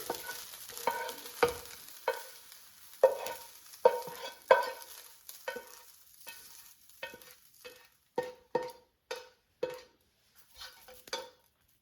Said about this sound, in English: let's remove cooked ground chicken from the frying pan